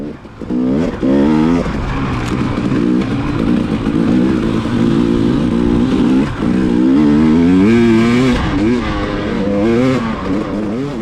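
A motorcycle revs and accelerates hard on a ride, its engine note rising and falling through repeated throttle sweeps, loud and close, with another bike nearby.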